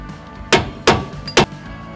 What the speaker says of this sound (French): Reposez le capuchon en tapant dessus à l'aide d'un marteau.